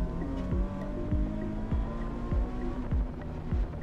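A Nissan 370Z accelerates hard through an autocross slalom gate, its engine a steady droning tone heard from inside the car, punctuated by regular low thumps roughly twice a second.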